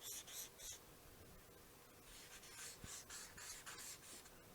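Marker strokes on a board as someone draws clouds, a series of quiet squeaky rubbing scrapes in short bursts, faint and close, with no talking.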